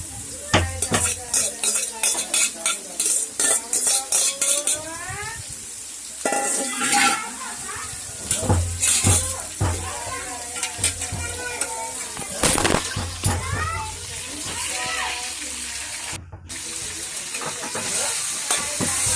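A spoon stirs a chicken 65 mixture in a metal pan, giving loud rhythmic scraping and clanking strokes over a frying sizzle, with short pauses between bursts and no speech.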